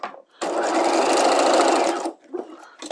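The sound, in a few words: sewing machine stitching a dress bodice seam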